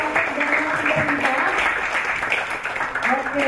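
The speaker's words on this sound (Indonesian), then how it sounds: "Berikan tepuk tangan yang meriah sekali lagi untuk para moderator dan narasumber kita." An audience applauds moderators and speakers at a talk on youth and hate speech on social media, with dense, steady clapping under a voice speaking over it.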